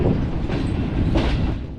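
Pakistan's Green Line Express passenger train running on rails near Khanewal gives a steady, close rolling rumble with rhythmic wheel clatter and a brief swell of noise partway through, with no voices.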